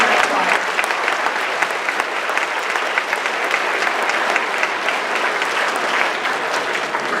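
Sustained applause from a school audience at a fourth-grade recorder concert in a high school, many hands clapping in a thick, steady wash that stays loud and even from start to finish.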